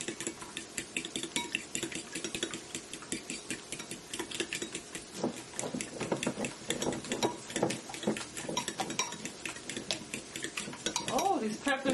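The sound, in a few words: fork whisking eggs in a bowl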